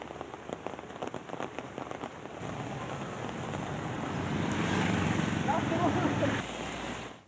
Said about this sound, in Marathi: आज पुन्हा एकदा पुणे शहरामध्ये पावसाने कमबॅक केलाय